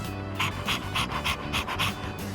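A dog pants in the Persona 3 Reload video game, with steady rapid breaths repeating in an even rhythm, close and fairly loud with no talk.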